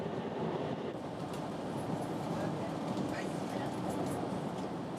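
A bullet train gives a steady low rumble and rushing noise, as if heard from inside a carriage, with faint rattles and clicks over the continuous hum.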